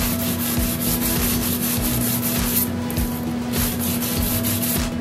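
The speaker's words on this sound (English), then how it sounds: "I'm gonna take my sanding block and I'm just gonna sand" A sanding block rubs back and forth over a tumbler, a loud, close, continuous gritty scraping in steady strokes with a constant low hum underneath.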